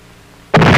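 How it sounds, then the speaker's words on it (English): US Army missile launch, a sudden loud roaring blast that bursts in after a quiet moment and carries on as dense, broadband rushing noise. "after the missile is launched"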